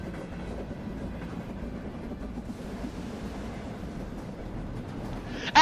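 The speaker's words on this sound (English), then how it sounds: "Train carts begin to pass by you" A train rolls past up close at night, a steady, heavy rumble of rail cars with rhythmic clatter that holds for several seconds and ends in a sharp, loud burst.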